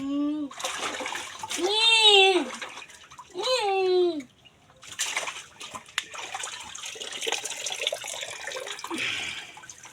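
Bath water running and splashing steadily while someone talks in a high, playful voice to a child nearby.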